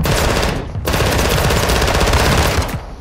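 Rapid automatic gunfire in a video game, loud and sustained bursts with a brief gap near the start, dominating the clip with no talk over it.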